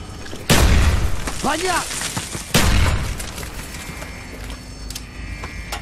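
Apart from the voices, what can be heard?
grenade explosion in Call of Duty Black Ops video game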